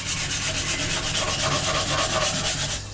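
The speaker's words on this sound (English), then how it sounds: "So try to just sand just the white area where the actual super glue is." Fast, rhythmic sanding strokes over the glued seams of a 3D-printed katana sheath, a close, loud, steady scratching with no talk.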